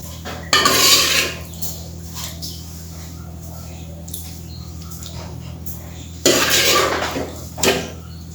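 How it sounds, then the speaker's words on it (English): Goan salted pork vindaloo is plated in a kitchen with pots and utensils, giving two bursts of clattering, scraping cookware and cutlery separated by quieter stretches of faint clinks over a low steady hum. "Now let's plate it up."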